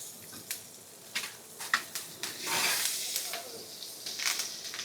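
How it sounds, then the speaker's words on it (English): Garlic and thyme crackle in local Irish butter in a frying pan, giving a soft hiss with scattered sharp pops and snaps close to the microphone, heard without speech. "Yes, the crackle of garlic and thyme, I love it."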